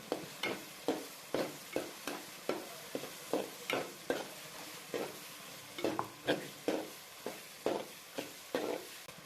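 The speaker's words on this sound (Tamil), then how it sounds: "நல்லா பச்சை வாசம் போகிற அளவுக்கு நல்லா வதக்கி விடுங்க" A spoon repeatedly stirs and scrapes spice paste in a pan with a steady rhythm, faint sizzling underneath, no talking.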